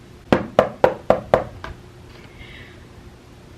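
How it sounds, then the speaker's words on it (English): Five evenly spaced knocks on a door, sharp and fairly close, followed by a fainter sixth tap and then quiet with a faint background tone. "a strange woman knocks at the door."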